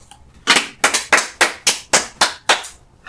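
Eight sharp hand claps in a steady, slightly quickening rhythm, close and crisp, each one ringing briefly before the next, with no talking.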